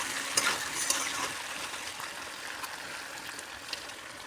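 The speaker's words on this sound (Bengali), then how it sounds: "মাংসগুলো সিদ্ধ হতে থাক" Chicken meat simmers in a pot with a soft, steady bubbling hiss and a few small clinks and pops, quiet and close; no one speaks.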